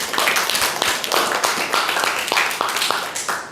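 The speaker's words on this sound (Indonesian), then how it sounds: "tepuk tangan dulu temannya" Schoolchildren in a classroom clapping for their classmates, a steady spread of hand claps with sharper individual claps standing out, moderately loud.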